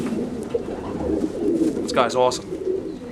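A large, clean silver racing homer pigeon coos briefly and softly while being handled, the short throaty burble coming near the end, over a man's close, steady talking.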